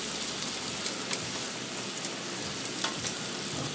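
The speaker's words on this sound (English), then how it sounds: "let me give that a quick stir with my tongs" Garlic and asparagus sizzle steadily in a hot cast iron pan, a dense close crackle with a few brief clicks and scrapes as tongs stir them through, no voices.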